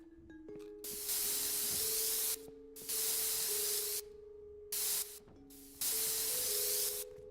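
Spray can painting in the video game Rust: four bursts of steady, loud aerosol hiss separated by short pauses, with faint tonal game ambience underneath.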